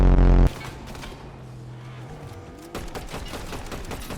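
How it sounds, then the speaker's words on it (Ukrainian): A loud burst opens, then rapid bursts of Fortnite gunfire rattle in quick succession, close and sharp, with a vehicle engine drone underneath. "Нащо ти в мене стріляв?"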